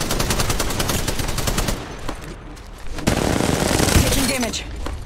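Rapid automatic gunfire bursts in Apex Legends Mobile, loud and close, with a short lull before firing resumes, under game voice callouts.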